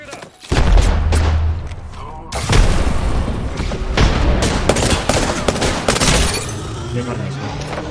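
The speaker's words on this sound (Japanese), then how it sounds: "グレネードを投げた。" A grenade blast in Apex Legends during a ranked match booms loudly, followed by bursts of gunfire and sharp impacts in a busy firefight.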